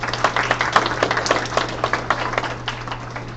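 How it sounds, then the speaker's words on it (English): A small audience gives a round of applause, close, dense clapping that holds steady for a few seconds without speech. "give a round of applause for Mario"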